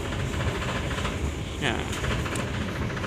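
Argo Muria passenger train on the Semarang–Jakarta route, heard from aboard as a steady loud rumble of the carriage in motion, with a brief voice over it.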